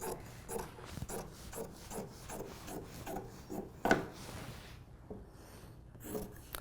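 Long fabric strips being cut along marked lines for slipcover cording, close, rhythmic snips and rasping rubs in an uneven series, with one louder scrape partway through and no voices.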